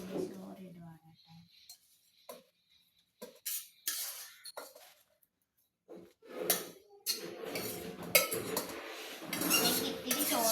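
Rice is served into a small lunch box with metal utensils, giving scattered clinks and scrapes of spoon against container, quiet and intermittent, with stretches of near silence between them.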